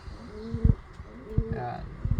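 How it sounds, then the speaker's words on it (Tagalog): Racing pigeon back from a long race gives soft, low coos in a few short repeated bursts, close by, with faint background noise. "Itong ibon naman ito ay linyada ni Boss Miles"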